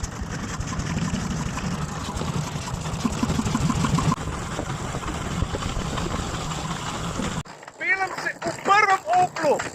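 An 1899 Opel car with a 1.5-litre, 3.5-horsepower engine runs with a loud, continuous low chugging rumble for most of the stretch, then cuts off as excited voices take over near the end.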